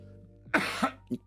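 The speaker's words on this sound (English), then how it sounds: "Excuse the cough." A close, short cough from someone at the end of a bad cold, with a couple of quick follow-up throat-clearing bursts, heard alone.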